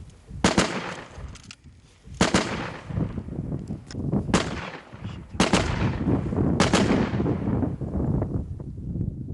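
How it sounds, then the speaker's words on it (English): Gunfire in a Ukrainian war zone as Russian troops shoot back: several sharp, loud shots or bursts ring out at irregular intervals over a steady rumbling background, with no voices. "Russians shoot back."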